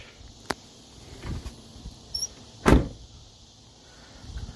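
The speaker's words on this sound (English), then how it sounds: "Never slam doors in cars." A new car's door pushed shut with a solid thud, preceded by a few lighter clicks and knocks from handling the door, fairly close in an otherwise quiet setting.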